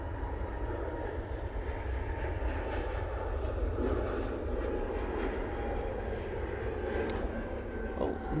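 An Airbus A321neo arriving at Manchester Airport on a short flight from London gives a steady, fairly loud jet-engine roar and rumble that holds at an even level, heard alone without voices.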